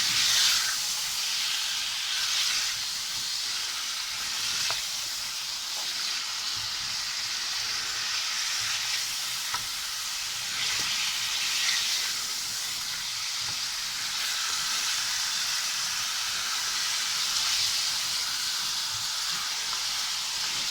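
Chicken pieces frying in a pan for chicken karahi, a loud, steady sizzle and hiss close by that continues evenly without pause throughout.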